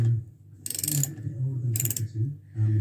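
A ratchet wrench works the bolts on a VW Beetle clutch, two bursts of rapid close clicking ratchet strokes separated by quieter handling noise in a garage.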